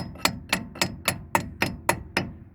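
A new wheel stud being tapped into a vehicle hub with a hammer, eight light metallic taps at an even, unhurried rhythm, close and fairly quiet.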